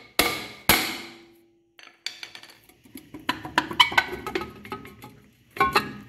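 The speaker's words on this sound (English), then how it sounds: "I'm gonna show you just with a couple little taps here." A hammer raps a seized, rusted brake drum on a 1963 Ford F100, two sharp ringing metallic strikes up front, then a clatter of lighter taps and knocks, ending in another burst of close blows.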